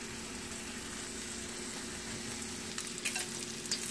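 Sausage browning in a pot for gumbo, a steady close sizzle and crackle of frying with a few brief stirring clatters near the end, no voices.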